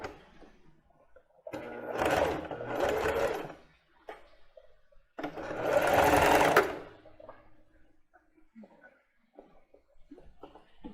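Domestic sewing machine running a straight stitch on plus-size underwear fabric, two separate bursts of whirring motor hum with quiet handling noises between them.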